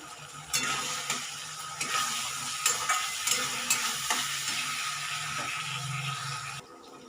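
Cauliflower chilli being stirred in a frying pan with soy sauce, a steady sizzle punctuated by repeated scraping strokes of a spatula against the pan, ending abruptly, no talking.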